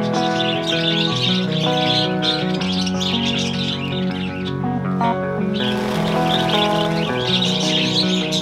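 Cockatiels chirp and whistle continuously at a pet store, a dense chorus of bright, overlapping calls close by with no talk.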